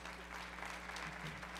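A short, fairly quiet burst of audience clapping during a talk event, a steady patter of hands heard for under two seconds over a low background hum.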